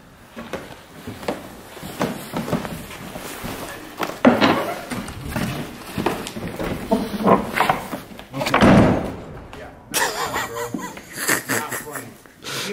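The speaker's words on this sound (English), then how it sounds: "let's close the door on them" A heavy door swings shut inside a mine cave at night, landing with a loud slam and thud among rattles and scrapes while several people talk and laugh close by.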